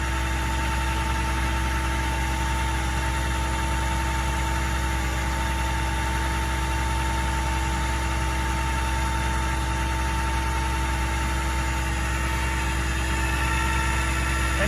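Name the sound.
vehicle winch spooling in a 50-foot line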